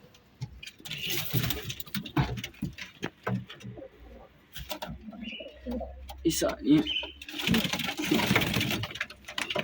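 Soft male pigeon coos sound close by amid rustling and handling noises in a coop, with a voice briefly talking and a faint engine hum beneath.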